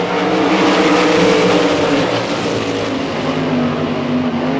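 POWRi 305 race cars rolling off for a heat race at a dirt track, a loud blended roar of several engines held steady throughout with no voices.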